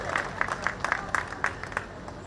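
A crowd at a political rally and foot march claps for a farmers' union leader with a short, loose burst of applause, individual claps standing out at a moderate distance and fading after about two seconds.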